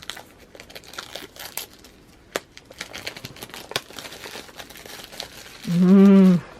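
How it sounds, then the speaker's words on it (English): Plastic wrap is pulled and cut from a tarot card box with small scissors, giving close, scattered crinkles and sharp snips, followed at the end by a brief loud tonal hum. "I realized that I could not get this plastic off without the support of my fun little scissors."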